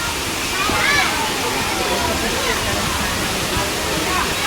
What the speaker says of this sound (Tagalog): Ayun ang malakas na falls